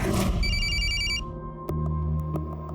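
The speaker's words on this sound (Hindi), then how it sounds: "लेकिन एक रात अचानक उसका मुझे फोन आया।" A telephone rings with a bright, repeating electronic trill for about a second, then stops as low background noise and faint clicks continue.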